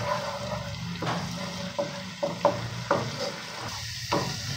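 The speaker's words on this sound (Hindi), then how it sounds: "लाइट ब्राउन होने तक हमने अदरक लहसुन पेस्ट को ना" Ginger garlic paste frying in a pan for chicken korma: steady soft sizzling with a series of scraping stirs and spoon knocks at irregular intervals, close and alone.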